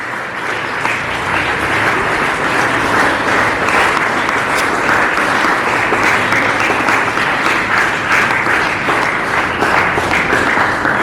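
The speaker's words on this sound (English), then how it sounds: "Please give a big round of applause." At a high school Republic Day ceremony, an audience claps in long, loud, sustained applause, a dense and even wash of hands with no voices heard.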